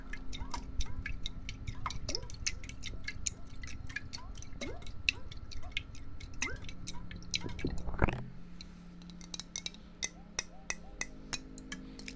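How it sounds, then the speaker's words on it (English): Water drips and plinks in mason jars with a steady, rapid rhythm of small ticking drops, close and soft, with a brief louder gurgling swoop near the middle before the dripping continues. "It's the sound of water. That's what it is."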